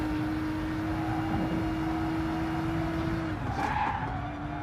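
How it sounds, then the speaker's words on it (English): A race car in the video game Gran Turismo Sport drones at steady high revs through a chicane, with a tire squeal and skid rising near the end, loud and continuous without talk. "I stopped talking there so you could listen to the engine"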